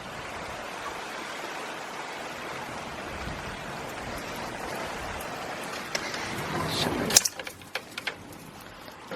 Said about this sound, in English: it's absolutely bucketing down.